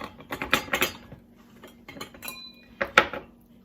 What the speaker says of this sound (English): Have my jar with the funnel, and all I have to do is put these into the jar.